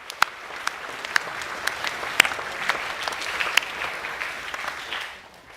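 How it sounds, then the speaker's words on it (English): An audience at a school academic awards assembly for Years 10–12 applauds, a steady crackle of many hands with a few sharper individual claps, fading near the end. "Can we give all those people a round of applause, please?"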